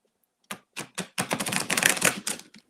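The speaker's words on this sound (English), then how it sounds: "Give them a good old shuffle." A fairly new, slightly sticky tarot deck is shuffled by hand, a few separate crisp riffles building into a dense run of rapid card flutters, close by with no talking.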